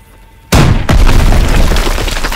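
A single heavy explosion blows apart a wall in Call of Duty WWII, a sudden loud boom after a quiet moment, followed by a second blast and a sustained rumble of debris and battle noise.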